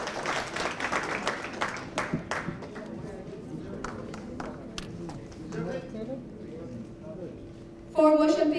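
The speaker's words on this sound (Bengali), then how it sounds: "তাদের জন্য একটি জোরে করতালি হয়ে যায়।" Audience applause at a film launch ceremony, a scattered burst of clapping that thins out over several seconds, mixed with crowd murmur and voices in a large room.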